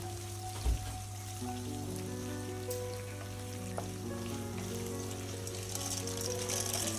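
Shallots sautéing in a pan for a Tamil pirandai stem thuvaiyal, a steady broadband hiss of frying under a constant low electrical hum, with one brief knock near the start and no talk.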